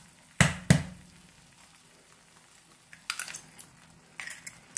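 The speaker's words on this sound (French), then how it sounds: "Maintenant je vais casser les œufs." Eggs cracked into a pan of aubergine chakchouka give two sharp, close cracks in quick succession, followed after a pause by a few light taps and small clinks.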